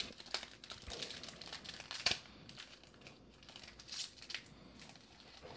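Foil wrapper of a 2020 Panini Diamond Kings baseball card pack crinkles and tears in close, quiet bursts, with sharp crackles scattered between softer rustling as the stiff pack is slowly worked open.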